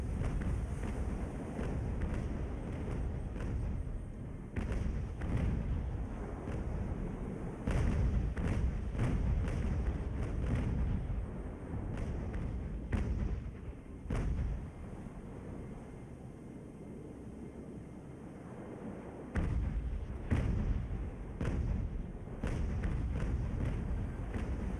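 Cannons on sailing warships fire in the naval battle game Ultimate Admiral Age of Sail, a run of heavy booming thumps spaced irregularly over steady wind and sea noise, with no talking.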